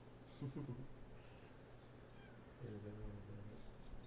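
A domestic cat meowing twice, faint and fairly close, with a long gap between the calls over quiet background noise.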